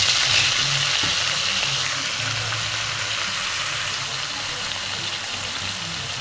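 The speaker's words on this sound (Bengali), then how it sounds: "এই দেখো তেলে দিয়ে দিছি ফোড়ন আর শাকগুলো দিয়ে দিলাম" Spices and leafy greens frying in hot oil for a vegetarian home lunch, a steady broad hiss of sizzling that eases slightly toward the end, alone without talk.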